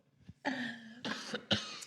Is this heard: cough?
yes